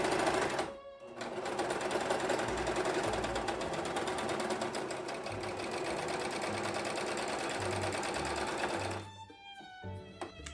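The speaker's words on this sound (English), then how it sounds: "then I'm going to take it to the serger so that we'll just bind it together" Serger sewing machine binding fabric edges of costume armor pieces, a fast rhythmic mechanical chatter that runs steadily for about eight seconds, then stops.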